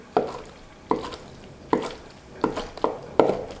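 Cooked glass noodles are chopped into bits on a cutting board with a kitchen knife. Six distinct knife thuds come at an uneven, unhurried rhythm, close and clear with no talk.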